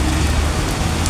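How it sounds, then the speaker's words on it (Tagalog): Heavy rain pours down in Cagayan de Oro City, a loud, dense, continuous hiss and patter close by with a low rumble underneath and no voices. "Munang pa ko ni uli kay grabe ka kusog sa ulan."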